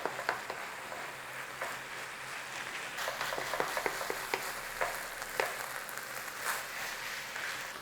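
Flour and fat sizzling quietly in a pan as a roux for minced beef pie gravy, a steady soft frying hiss with scattered faint clicks and scrapes of stirring.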